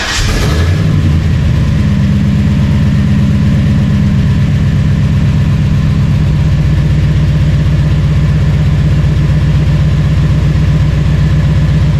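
A truck engine cranks and catches after a repair, then settles into a loud, steady, throbbing idle. It stays close up for the rest of the clip with no talk.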